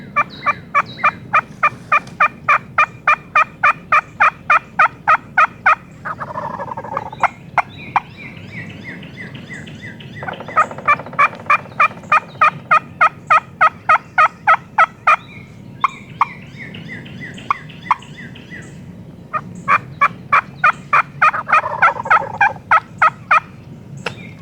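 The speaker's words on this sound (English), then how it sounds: "The gobblers had been roosting along this field edge and flying down to the hens." Wild turkey gobblers in Alabama gobble in loud repeated rattling bursts, several rolling calls close together over an outdoor background, with pauses between volleys and no talking.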